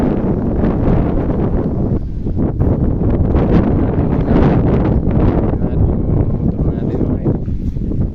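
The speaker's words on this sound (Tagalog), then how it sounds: "Malakas yung hangin mga idol." Strong, steady wind buffets the microphone throughout, a loud continuous roar with gusty surges and no clear speech on top.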